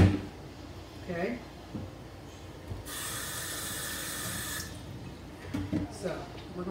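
Tap water runs into a kitchen sink to rinse pig feet, a soft splashing hiss that swells for a few seconds in the middle, with a person talking quietly around it.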